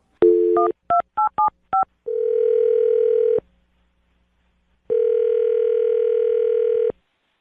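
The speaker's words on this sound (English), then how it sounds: "I'm going to dial his phone number right now" A telephone dialing a number: a quick string of about six touch-tone beeps, then a long ringback tone, a pause, and a second ringback tone, all loud and close.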